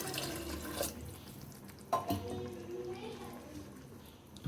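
Half a cup of water poured into a pot of daal mash for a hotel-style recipe, a short splashing pour with a couple of brief sloshes, fairly quiet and close.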